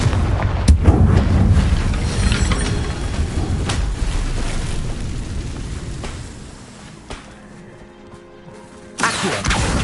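A Confringo fire spell blasts in Hogwarts Legacy on PS5, a loud booming burst that opens the clip, followed by rumbling crackle and echoing impacts that fade before another burst near the end.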